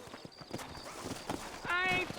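Horse hooves clip-clop at a steady walk in a Red Dead Redemption frontier setting, then a loud, close whinny rings out near the end, with game speech and ambience faintly underneath.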